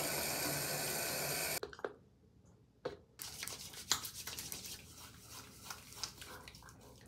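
Water from a tap runs steadily, then cuts off, followed by wet splashing and rubbing as a face is washed with a foaming cleanser, close and fairly quiet, in short irregular bursts with no speech.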